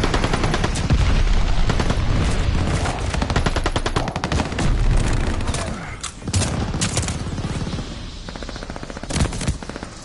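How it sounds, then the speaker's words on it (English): Shotgun blasts in the Call of Duty: Vanguard video game, a dense run of loud close gunfire with rapid overlapping shots through most of the stretch, thinning into scattered bursts toward the end. "These shotguns are ridiculous"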